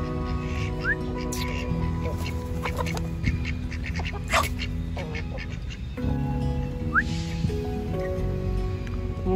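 Ducks quack a few times at a small village farm, short bursts amid ambient noise, music-like tones and other farm sounds.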